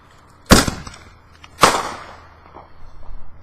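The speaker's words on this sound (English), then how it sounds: "Carter, why don't you move the camera to where the fireworks go?" Two sharp firework bangs burst close by about a second apart, each trailing off into crackle, with quieter pops following near the end.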